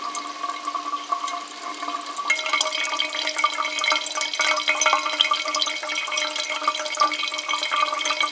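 Filtered water drips and trickles from a Millbank bag into a vessel outdoors in the wilderness, a thin, steady patter that grows busier partway through, close and continuous with no talk.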